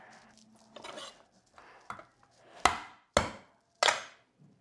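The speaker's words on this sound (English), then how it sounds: "you're gonna put them in your special garlic mincer. And you're gonna mince all of the garlic" Garlic cloves are worked in a garlic mincer on a counter while making falafel, giving a series of sharp knocks and clacks: scattered light taps, then three loud, evenly spaced hard strikes close by.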